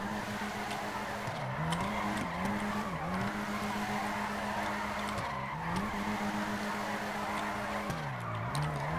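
A Nissan GT-R R35 drifts in the FiveM video game, its engine droning steadily while tire squeal rises and dips in repeated sweeping waves, loud and continuous throughout.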